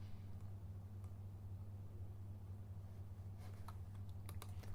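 Typing on a computer keyboard, faint and sparse at first, then a quicker burst of key taps near the end, over a low steady electrical hum.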